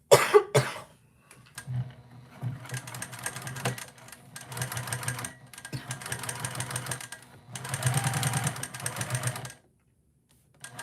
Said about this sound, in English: So now I'm just gonna sew.